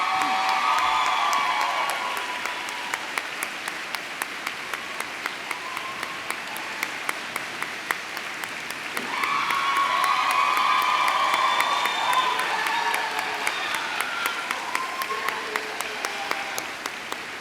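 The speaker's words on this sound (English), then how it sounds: "Can we give them another round of applause?" Sustained applause fills a hall at an Azusa Pacific University nurse pinning ceremony, a dense wash of clapping with cheers swelling midway, holding steady throughout.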